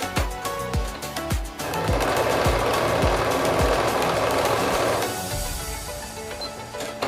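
A sewing machine stitching small triangle pieces for a Bonnie Hunter quilt, a steady close mechanical whir with rhythmic needle thumps, speeding up in the middle and easing off toward the end, no speech.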